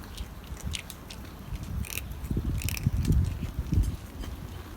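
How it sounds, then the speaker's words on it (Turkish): A cat eats its food with soft, quick crunching and wet chewing close by, irregular bites growing busier toward the middle, with no voices. "Mamasını yiyor."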